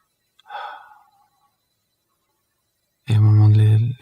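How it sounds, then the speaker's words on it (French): A soft, breathy deep breath in is drawn near the start, followed by a pause of silence and then a low, sustained voice. "prendre une respiration"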